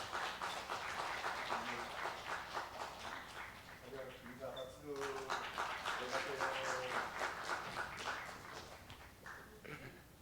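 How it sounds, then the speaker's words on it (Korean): A church congregation at a special dawn prayer service claps to welcome students forward, a quiet but steady patter of many hands mixed with voices talking throughout. "우리 박수로 환영해 주시겠습니다"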